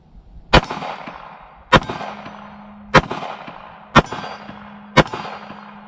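Five sharp shots ring out one at a time from a Sig Sauer P365 pistol in .380, spaced about a second apart. Each loud crack is close and decays quickly into a faint ringing tail before the next.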